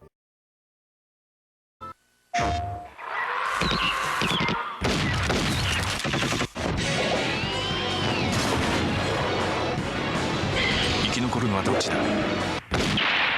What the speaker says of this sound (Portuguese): Usei um FN-FAL, que é a arma padrão do exército brasileiro